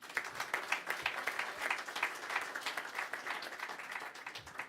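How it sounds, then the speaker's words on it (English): Audience applause at the SME Star Awards Ceremony 2018 for speaker Ivan Stefanic, a sustained, fairly dense round of clapping from a hall crowd that holds steady before tapering at the end. "Applause for Ivan Stefanic."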